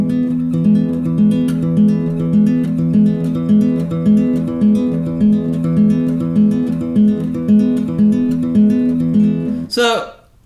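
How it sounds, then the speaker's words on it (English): A continuous descending arpeggio played on a melodic instrument, evenly repeating notes in a steady pulsing rhythm, clear and close, ending in a short flourish. "going downward sounds like this"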